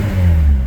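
A car fitted with a non-VTEC Integra P75 engine revs briefly, a close, loud, low engine roar swelling and easing within a moment.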